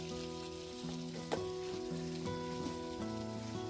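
An egg sizzling and crackling in a pan on a SoomLoom kerosene hobo stove outdoors, a steady close frying hiss with small pops, quiet and without talk, while tonal music plays underneath.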